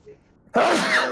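A single sudden, loud sneeze bursts out close up after a brief quiet moment.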